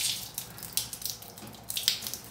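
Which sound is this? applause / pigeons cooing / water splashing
water splashing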